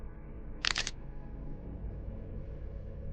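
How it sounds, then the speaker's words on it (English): A short, sharp burst of crackling clicks from a video game rises above a low, murky rumbling background, then the quiet drone continues. "making a cracking sound as they go"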